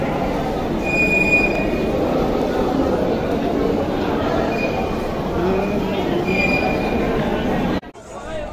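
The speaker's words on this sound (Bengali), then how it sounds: "আজকে মেট্রো স্টেশনও ভালোই ভিড় আছে।" A metro train runs through a crowded Kolkata station with a loud, steady roar and thin high wheel squeals. The sound cuts off abruptly near the end.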